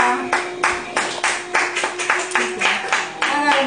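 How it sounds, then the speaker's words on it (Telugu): A grandfather claps his hands at home, crisp close claps in a steady, even rhythm of roughly three per second, with a faint voice and a humming tone behind them. "తాత చప్పట్లు కొట్టు తాత"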